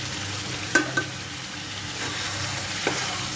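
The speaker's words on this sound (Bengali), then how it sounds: "তো এখন ভালো করে কষাতে হবে" Beef sizzles softly in a pan while a spoon stirs it, giving a few sharp scrapes and taps over a constant low frying hiss, heard close with no speech.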